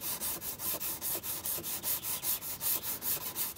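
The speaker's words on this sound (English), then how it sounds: "The sanding stick works quite well because it does have a relatively flat support." Sanding stick rubbed back and forth over a model starship hull surface, a steady run of about fourteen even, close rasping strokes with no talk.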